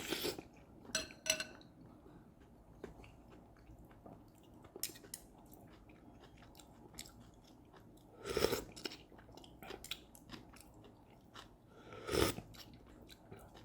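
Oxtail dipped in ginger sauce is eaten quietly up close, with intermittent soft chewing and biting plus a few louder crunchy bursts and light clinks of cutlery.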